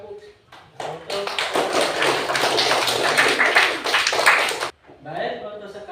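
A classroom of students claps for a classmate after a lesson on the Hajj pilgrimage, bursting into a sustained round of dense, close applause for several seconds before it cuts off, with voices before and after.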